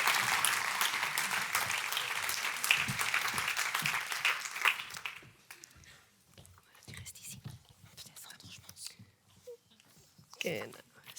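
Audience applause at a nursing initiative results ceremony, a dense clapping wash lasting about five seconds before fading into quieter room noise, shuffling and murmuring voices.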